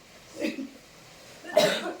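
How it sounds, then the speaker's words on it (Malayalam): Two separate coughs from a person indoors, a softer one early on and a louder, harsher one near the end, with quiet in between. "ഒരു ചുമയാണ്"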